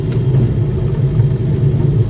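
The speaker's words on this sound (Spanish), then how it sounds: "Vamos a acelerar un poquillo." A Renault 4 GTL Clan, a light 700-kilo car, accelerates in third gear with a steady, low engine drone heard from inside the cabin, loud and constant.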